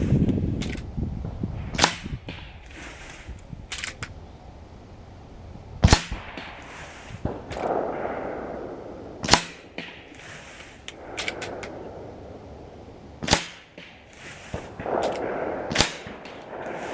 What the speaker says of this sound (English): All right, that's 10 shots.